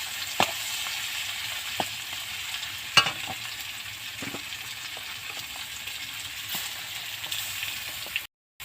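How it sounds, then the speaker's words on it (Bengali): Pangas fish fries in a wok full of oil, keeping up a continuous close sizzle with occasional sharp clicks of a utensil. It cuts to a brief silence near the end and no one speaks. "তো চলো মাছটা আমি ভেজে নিই"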